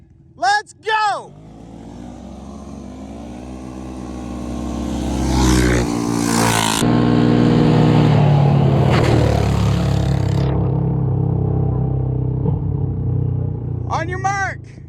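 CFMOTO ZForce 950 side-by-side and CFORCE ATV launching in high four wheel on dirt, engines swelling into a loud revving roar that holds and then fades, with a voice calling out briefly at the start and end.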